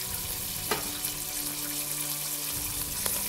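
Garlic sizzling in about two tablespoons of hot oil in a pan, a steady close frying hiss with a brief clink partway through and no talking.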